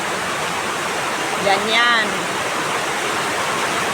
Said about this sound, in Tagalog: Ang lakas ng ulan mga lalabs, oh.